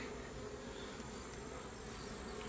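Honey bees hum steadily inside a queenless nucleus hive, a close, continuous, even buzz with no pauses and no voices.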